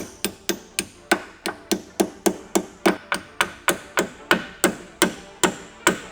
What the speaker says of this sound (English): I'm just gonna use the hammer to lock it all up.